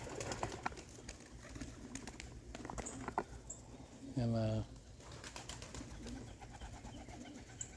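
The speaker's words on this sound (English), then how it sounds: "I got 4 old birds over there." Pigeons in a loft give one clear, close coo in the middle, set against faint background rustling and brief speech.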